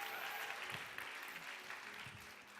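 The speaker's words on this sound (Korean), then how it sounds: "우리 손병영 목사님 모실 때 뜨거운 박수로 환영 부탁드립니다" An audience at a church youth service gives warm applause to welcome a pastor. The clapping is steady and fairly faint, sounding distant and continuing throughout.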